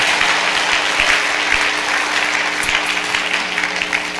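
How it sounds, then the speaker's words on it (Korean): A church congregation gives loud, steady applause to the worship team that led the singing. The clapping is close and continuous for a few seconds, with no voices over it. "우리 앞에서 찬양 인도해 주신 우리 찬양팀을 위해서 한번 격려의 박수 보내드리면"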